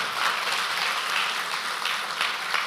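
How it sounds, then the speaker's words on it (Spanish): Church congregation at an evening service in Miami applauding, a full, sustained round of clapping from the crowd heard throughout, moderately close. "¿Por qué no le da un aplauso a Dios,"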